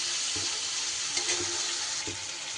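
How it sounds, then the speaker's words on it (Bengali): Spice paste for a hilsa fish-head curry, loosened with a little water, sizzles and fries steadily in a pan, with soft rhythmic scrapes of stirring over the constant hiss. "এইবার খুব ভালো করে মশলাটা একটু কষিয়ে নেব।"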